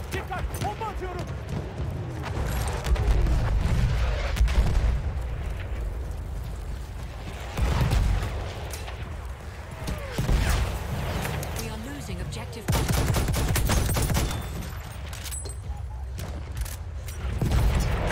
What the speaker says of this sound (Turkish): Dikkat! Bomba atıyorum!